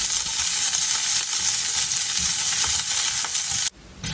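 Green beans stir-frying in a hot pot, a loud continuous sizzle with scraping stir strokes throughout, cutting off abruptly near the end to a quieter hiss.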